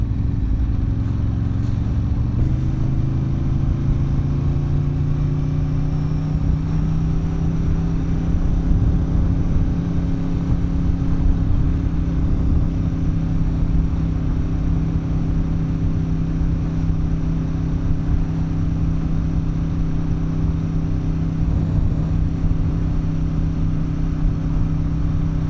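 A motor vehicle cruises steadily in second gear at 56 km/h on an autumn ride, its engine giving a constant, loud droning hum with a faint pitch rise early on, continuous and without voices.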